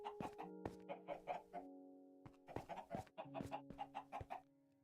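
Chickens clucking in the Minecraft video game, a series of short repeated clucks in bursts with brief pauses, clear and close with no speech.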